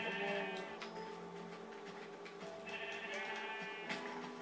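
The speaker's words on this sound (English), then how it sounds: "There's a lot of sheep here." Sheep in the Minecraft video game bleat repeatedly, several overlapping nasal calls in quick succession near the start and again later, fairly loud and clear with no talking over them.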